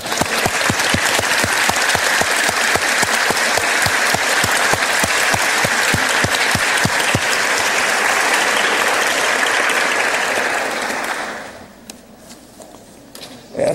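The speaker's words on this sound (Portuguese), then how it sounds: "eu queria uma salva de palmas, ou se vocês quiserem, né, palmadas para ela" Sustained applause from a seated class audience during a lecture, dense, loud hand clapping holding steady for about eleven seconds before stopping abruptly, leaving quiet room tone.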